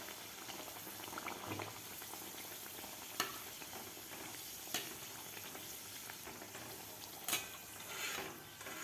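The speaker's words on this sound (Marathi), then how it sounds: "बाकीसुद्धा आपण अशा प्रकारेच तळून घेऊया दुसऱ्यासुद्धा पुऱ्या आपण तळून घेऊया" Banana puris deep-frying in hot oil, a steady dense bubbling sizzle throughout with a few sharper pops and crackles, close and without talk.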